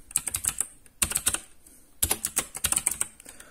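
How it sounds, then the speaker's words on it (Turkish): Someone types on a Gametech Black Rider gaming keyboard with blue switches, giving close, crisp clicky keystrokes in three quick bursts separated by short pauses. "Bu arada klavyenin sesini de dinlemiş olun."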